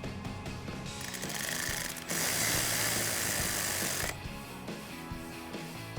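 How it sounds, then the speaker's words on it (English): A 5mm Allen key ratchets as it tightens a wheel speed sensor bolt on the front suspension of a 2004-2020 Ford F150, giving close, rapid mechanical clicking that grows louder in the middle stretch. "It's gonna pop right back in its home and secure with that bolt. Again, 5mm Allen key for this one."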